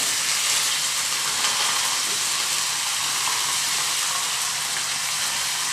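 Bay leaf, cumin seeds and curry leaves sizzle in hot oil while a Maharashtrian shahi vade dish is prepared, giving a steady, loud, close frying crackle with no pauses throughout.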